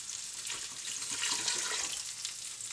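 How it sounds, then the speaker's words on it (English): Water pours steadily into a pot of chicken that has been frying for a Moroccan chicken tagine, a continuous close splashing gush lasting throughout with no talking. "So now you can see the chicken's been frying for maybe 5 to 10 minutes. And now we're going to add in the water."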